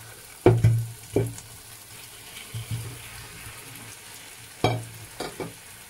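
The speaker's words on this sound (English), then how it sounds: "So I'm going to go ahead and add in my cassava" Cassava pieces tipped into a pan of sizzling vegetables for a cassava and sausage breakfast, with a few sharp clattering drops and scrapes over a constant frying hiss, nearby and without speech.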